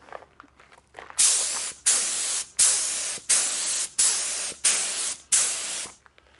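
Seven loud bursts of spray hiss from a paint spray gun at 2.5 bar applying candy red paint to a car, in a steady rhythm, each about half a second long with brief gaps between, close up and without talking.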